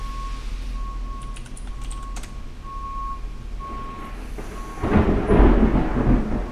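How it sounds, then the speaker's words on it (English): Thunder rumbles in the distance, then swells into a deep, rolling roar over a faint steady beep-like tone and quiet background hiss. "Wow, listen to that thunder."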